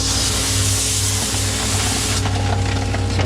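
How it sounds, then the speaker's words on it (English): Water sprays from a hose onto the grate of a concrete pump, a steady loud hiss and splash that runs continuously with pump machinery droning underneath. "Give the grate a little spray."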